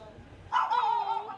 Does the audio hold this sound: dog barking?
yes